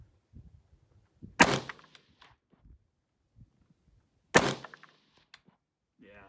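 Two sharp, loud gunshots ring out about three seconds apart during night shooting, each a crisp crack with a short echoing tail, with faint thumps and rustles between them.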